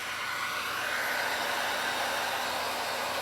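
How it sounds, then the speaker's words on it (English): Heat gun on its cool setting, blowing a steady, close, continuous airy whoosh like a hair dryer, unchanging throughout with no talking, used on a craft transfer. "I'm gonna try not to melt this transfer too with Jim's Bougie heat gun. Let me turn the heat down. I'm gonna put it on cool"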